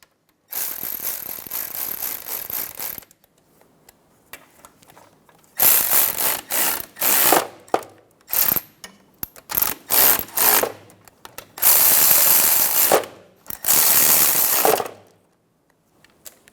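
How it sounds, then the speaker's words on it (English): An electric ratchet whirs in several short, loud bursts, first one long run and then a rapid series of separate runs, as lug nuts are snugged down in a cross pattern on a 2014-2019 Toyota Highlander wheel after a hub bearing replacement. "I'm going to go around with an electric ratchet, and I'm going to go in a cross pattern."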